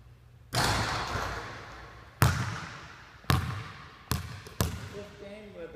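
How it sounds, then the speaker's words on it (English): A basketball repeatedly clangs off a rim and bounces hard on a court, five sharp loud impacts spaced irregularly, each ringing and decaying, with no talking. "Fourteen R because it banged the rim."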